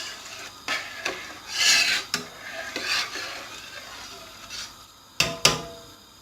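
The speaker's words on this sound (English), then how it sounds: "So every few minutes just keep stirring it and make sure it doesn't stick to the bottom." A spoon stirring carrot and rice kheer in a pan: intermittent scraping and rubbing strokes against the metal, soft hissing between them and a couple of sharper clinks near the end, close by, with no talk.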